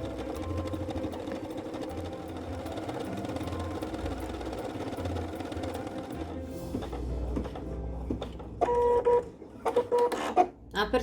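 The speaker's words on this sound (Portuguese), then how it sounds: "E agora eu vou costurar para vocês visualizarem como fica perfeito este ponto." A Pfaff Creative Ambition 640 sewing machine stitches fabric with a continuous close mechanical whir and low motor hum; near the end it breaks into short bursts and beeping tones.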